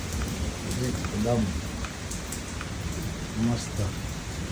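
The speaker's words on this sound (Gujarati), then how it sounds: "અચાનક જ વરસાદ ચાલુ થઈ ગયો." Sudden unseasonal rain falls steadily, a continuous broad hiss close by, with a voice briefly speaking over it; no clear thunder stands out.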